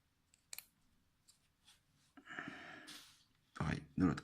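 Scissors make a few quiet, sharp snips while cotton wick is trimmed on an Aromamizer Supreme V2 rebuildable atomizer, then a longer crunching cut. A soft voice murmurs near the end.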